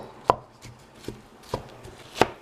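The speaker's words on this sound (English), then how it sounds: "go ahead and break that down and let the butter and the yam absorb together" Grated purple yam (ube) worked into melted butter in a pan, heard as four sharp, separate knocks of a utensil against the pan spaced about half a second apart, close and clear over a quiet background.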